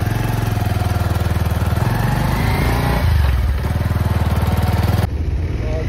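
A motorcycle on a group bike tour runs with a steady, loud, throbbing engine drone from start to finish, its note dipping briefly partway through.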